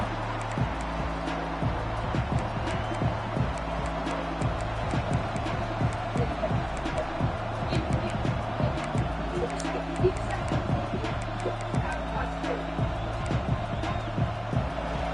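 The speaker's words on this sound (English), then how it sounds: "This crowd trying to show them what it's going to be like all day in this house." Stadium crowd noise from an NCAA football video game forms a steady, dense roar under a rhythmic chanting or drum pattern throughout, with the crowd remaining loud and constant.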